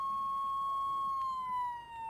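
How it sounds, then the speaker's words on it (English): A police car siren in the video game Flashing Lights wails continuously with a clear steady tone that slowly falls in pitch. A faint background hum runs underneath and no one speaks. "right directional pad button to turn the siren on"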